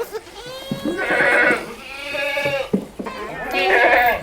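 A long-eared male goat with two teeth, about 40 inches tall, bleats in a few wavering, nasal calls close by, with short pauses between them.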